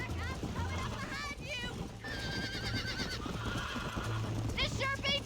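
A horse in the video game Red Dead Redemption whinnies several times over steady clip-clop hoofbeats, set against a busy game soundscape with voices talking in English and Arabic.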